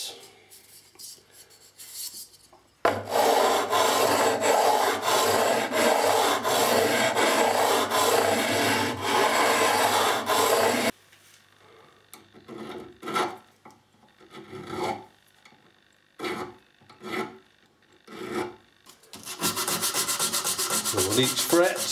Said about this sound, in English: Time to level the frets.